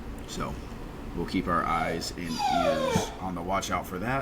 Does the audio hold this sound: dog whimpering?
yes